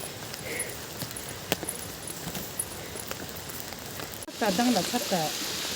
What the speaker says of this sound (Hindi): आज ये बारिश हमको भिगा के लेने वाला है